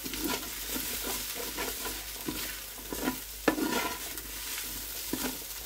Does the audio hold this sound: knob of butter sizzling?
yes